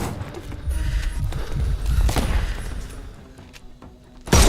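Gunfire in the Sherlock Holmes Chapter One video game, a dense burst of shots and thuds with mixed game noise and a loud final blast at the end.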